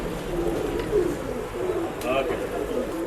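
Pigeons coo softly at a pet shop in Bangalore, a low burbling murmur over steady background noise.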